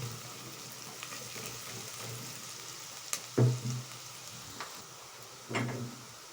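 Chopped onion sizzles steadily in a pot as it fries toward golden, a soft, even crackle with a couple of louder clunks from a utensil against the pot.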